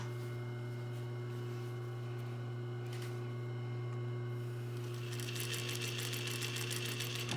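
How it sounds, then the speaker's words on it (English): Sewing machine stitching the back part of a collar with a 1 cm seam allowance, a steady near mechanical whir over a constant low hum, growing louder and busier toward the end as stitching speeds up. "Now I'm going to stitch the back part of the collar on"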